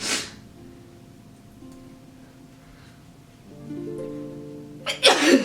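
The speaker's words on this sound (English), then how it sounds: "I keep sneezing." A single sharp sneeze bursts out at the start, followed by quiet background music, then a second loud sneeze near the end.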